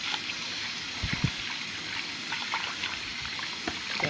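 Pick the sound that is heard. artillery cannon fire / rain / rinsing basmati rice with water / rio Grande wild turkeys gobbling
rinsing basmati rice with water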